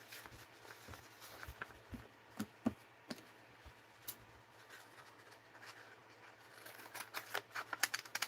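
Scissors snip through paper scraps for a mixed-media craft project, a series of quiet, irregular cutting clicks that grow busier toward the end.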